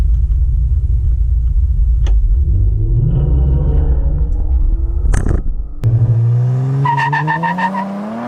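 A 2020 Ford Explorer ST engine held on launch control, a loud steady rumble near the microphone with a brief burst of tire and mechanical noise, then the revs climbing again in a rising whine.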